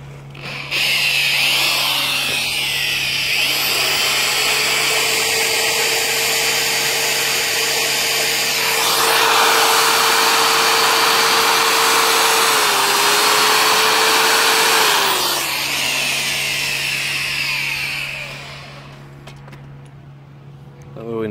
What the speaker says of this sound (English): Inverter's quite happy running the drill,